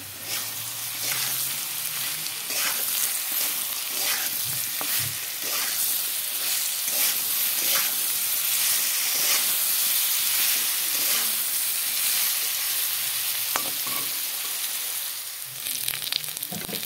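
Potatoes fry in hot oil in a pan, giving a bright, continuous sizzle and hiss up close, with occasional stirring clinks and no voices.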